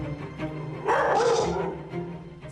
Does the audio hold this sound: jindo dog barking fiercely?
yes